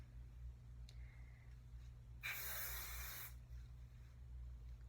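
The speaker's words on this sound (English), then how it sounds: "So I'm going to use the Big Hair Rocks Mega Volume Super Firm Hairspray by Rock Your Hair" A single burst of Big Hair Rocks Mega Volume Super Firm aerosol hairspray, about one second of bright, close hissing over a low steady hum.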